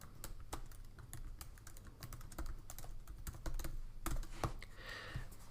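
Steady, fast clicking of keys on a computer keyboard, heard close and alone with an irregular rhythm of taps.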